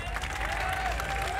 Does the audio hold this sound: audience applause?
yes